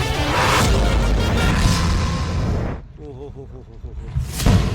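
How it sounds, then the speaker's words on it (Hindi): Heavy, roaring blasts from explosions one after another at a roadside during a settlement demolition in Gurugram rumble loudly for a few seconds, then a voice speaks briefly before another loud burst erupts. "सड़क के किनारे एक के बाद एक धमाके हो रहे हैं।"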